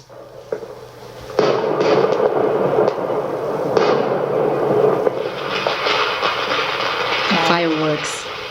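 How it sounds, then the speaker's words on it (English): Diwali fireworks crackle and bang in a dense, continuous barrage near a house, with a whistling rocket rising toward the end. "Fireworks."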